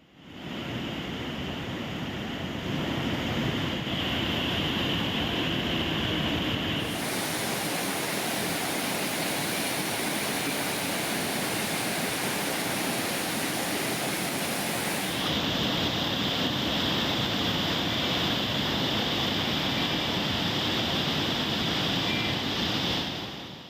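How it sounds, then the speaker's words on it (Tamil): Floodwaters pour down the Courtallam waterfalls after days of continuous rain, a loud, steady roaring rush that fills the whole clip with no voices. "தொடர் மழையால் குற்றால அருவிகளில் வெள்ளப்பெருக்கு ஏற்பட்டுள்ளதால்"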